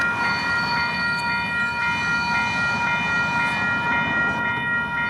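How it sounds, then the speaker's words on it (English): A mixed freight train passes nearby with a steady rolling rumble and a sustained high tonal ring from the wheels or horn over it, loud and continuous without voices. "there goes this mixed freight"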